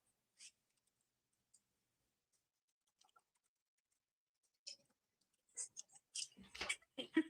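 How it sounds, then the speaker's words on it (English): Keyboard typing in faint isolated clicks that build into a quick, close burst of keystrokes at the end. "This typing is sending me."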